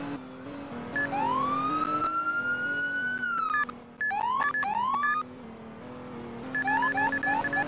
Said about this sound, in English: The ambulance.